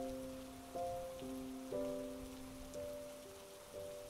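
Rain falls as a soft, steady patter beneath gentle sustained musical chords that shift every second or so, with no voices heard.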